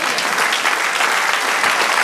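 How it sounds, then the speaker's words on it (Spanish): A church congregation applauds during a Spanish-language sermon, a dense, loud burst of clapping from many hands that fills the whole moment without a break. "Dale un aplauso a Dios"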